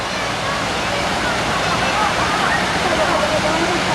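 A steady, loud roar of rushing, churning water fills the scene without letup as a Raging Rapids water ride crashes along nearby at an amusement park.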